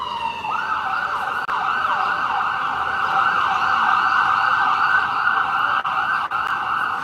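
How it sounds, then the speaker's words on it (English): Emergency vehicle sirens wail continuously on a downtown New York street, a loud sweeping tone holding steady throughout with no talk over it. "So I'm sorry you guys have to keep hearing these sirens."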